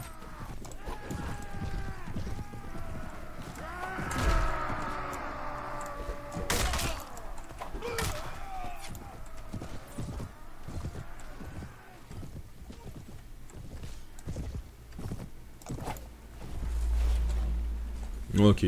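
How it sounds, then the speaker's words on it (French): Horses in the video game Mount & Blade Warband, with rhythmic hoofbeats and occasional whinnies running under someone talking, plus a few sharp impacts from the battle. "Regardez, il y a plein de chevaux plutôt badass."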